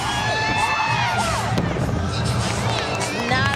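Gymnastics teammates cheer and shout at a college meet, a steady crowd roar with whoops and high voices rising over it throughout.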